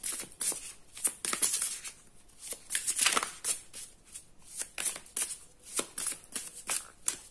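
Tarot cards being shuffled by hand in a quick series of crisp riffling bursts, close and fairly quiet, with no talking.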